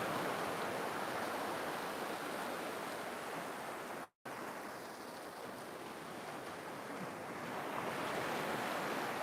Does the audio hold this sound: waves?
yes